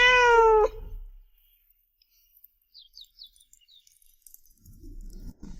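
A cat gives one loud, close meow at the start, followed by near silence with faint bird chirps and a soft rustle at the end.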